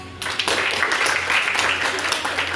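Applause from participants at a local-wisdom speech competition, a steady broadband patter of many hands clapping throughout, with some voices mixed in underneath.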